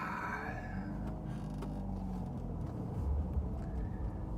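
Car rushing past at speed on the road, heard from inside a Mazda RX-8 over its own steady engine and road rumble, with the passing whoosh swelling toward the end.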